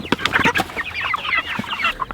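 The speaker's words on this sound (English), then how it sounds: "Just putting all the animals to bed, feeding chickens for the second time," Backyard chickens cluck and squawk in a busy, overlapping flurry at evening feeding time, close by and fairly loud, with scattered sharp calls throughout.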